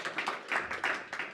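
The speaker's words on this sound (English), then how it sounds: "Big round of applause for Tim" Audience applause at the close of a Web3 talk with Zumo CTO Tim Sabanov, a short burst of clapping that swells in uneven waves, fairly close and loud.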